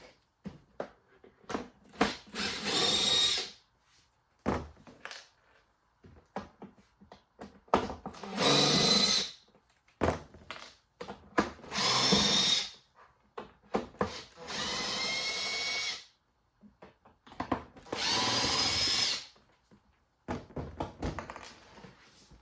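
A power drill backs screws out of a giant 3 ft light bulb housing in repeated short whirring bursts, each a second or two long, separated by quiet gaps with small taps and clunks of handling, close and fairly loud.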